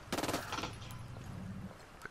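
Gunfire in the video game Ghost Recon Wildlands: a rapid burst of automatic shots up front, then a duller rattling tail and a lone faint report near the end.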